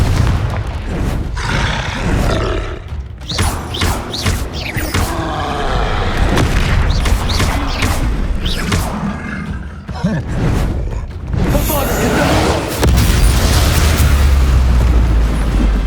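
A Confringo spell explosion in Hogwarts Legacy, heard as a loud, sustained booming roar with crackling debris that rumbles on almost continuously and swells again near the end.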